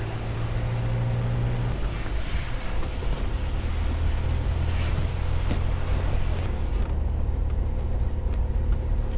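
Steady rushing road and water noise from a car driving on a wet road on a cloudy, rainy day in Naran bazaar, Naran Valley, a continuous low rumble and hiss with no talk.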